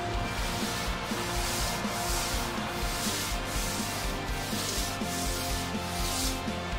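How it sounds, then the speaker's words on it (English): Sandpaper rubs back and forth across a varnished wood tabletop to strip off the top coat, giving a steady, even scratching with a regular stroke rhythm, close and continuous, with no talking. "So we're going to sand and take off the top part of the varnish."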